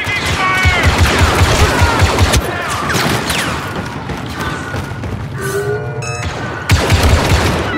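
Gunfire in a combat video game campaign, dense and continuous with heavy thuds and bursts under loud, constant battle noise across the whole stretch, with no talk.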